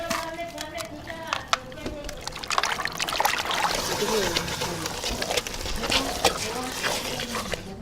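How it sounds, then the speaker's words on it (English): Water is poured over raw chicken as it is washed for Ethiopian doro wat, making uneven trickling and splashing close by, with a voice talking over it. "now he added water into the chicken and the water is just completely clear"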